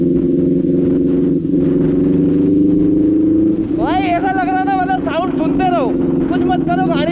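Loud, steady superbike engine hum while riding, continuous throughout, with a voice talking over it in the second half.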